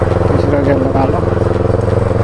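A heavy Bullet motorcycle engine drones steadily and loudly close by as the rider shifts into second gear during a night ride, with voices heard over the running engine.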